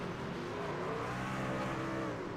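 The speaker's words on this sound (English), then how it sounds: "You can hear him rev it up, hit the brakes, just so he doesn't kill the inside wall." Race truck engine in the iRacing game at Kansas, a loud continuous engine drone with shifting harmonic tones as it revs and eases off, steady throughout.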